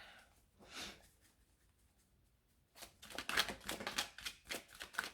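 Tarot cards being shuffled for a spiritual reading, first a short soft riffle, then a pause, then a longer run of quick crisp flicks and snaps close to the mic.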